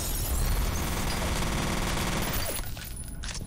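Pulse rifle gunfire in the video game F.E.A.R.: a dense, loud burst of rapid automatic fire lasting about two and a half seconds before dropping off into quieter rattles.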